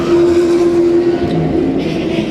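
Race cars roar down the track at the green flag, a loud, sustained engine drone with a steady high whine, close and continuous for a couple of seconds.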